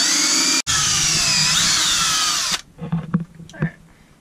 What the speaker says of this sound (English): then you can drill straight through without fear of lifting and splitting the wood